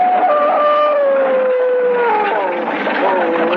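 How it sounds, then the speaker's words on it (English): Devil dogs in a vintage spooky radio drama, voiced as long wavering howls that rise and fall in overlapping glides, loud and close, filling the whole stretch. "in the back of it, the devil dogs ran, snarling and howling"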